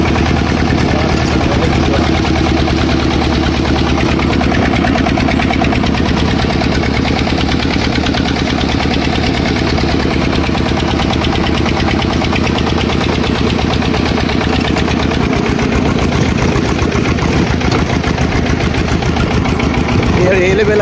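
A tractor engine idles steadily with a low, chugging rumble that runs continuously the whole time, loud and close.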